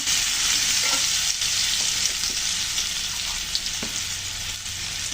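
Pumpkin and potato pieces fry with prawns in a pan, giving a loud, steady, close sizzle with occasional light stirring taps and no speech.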